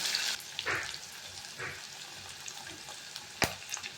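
Steady sizzling and crackling of onions sautéing in hot oil, with occasional louder spits and pops.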